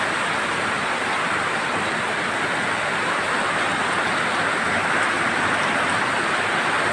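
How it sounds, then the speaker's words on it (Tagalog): Heavy rain falls steadily on a still, windless day near bamboo, a dense, even hiss that stays at a constant level throughout with no voices. "Ulan lang talaga malakas."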